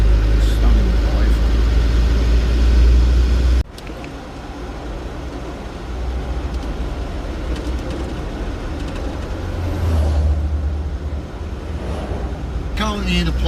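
A car cruises a slow coastal road through Montenegro near Bar, with a steady engine and road rumble filling the cabin, loud and continuous, and a sharp drop in level partway through as the ride carries on.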